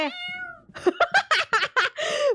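Meowing cat in the indie video game MEAW: a drawn-out harmonic meow, then a quick run of five or six short, loud meows and a final longer cry, all clear with no talk over them.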